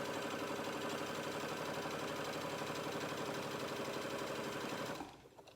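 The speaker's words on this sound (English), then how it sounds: "So my machine bounces because I'm sewing at such a high speed." A sewing machine stitching quilt strips at full speed, a steady fast mechanical whir and rattle with the machine bouncing, close and continuous before stopping abruptly near the end.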